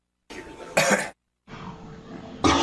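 Two short bursts of quiet throat clearing, each building into a louder rasping clear near the end, separated by a brief silence.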